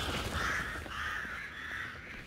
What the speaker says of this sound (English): then there's suddenly crows in the north.